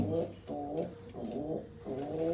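Pigeons coo in soft, repeated rolling calls close by, several phrases following one another steadily.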